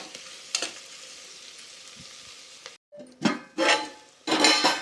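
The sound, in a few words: frying and stirring in a pan for chicken pulao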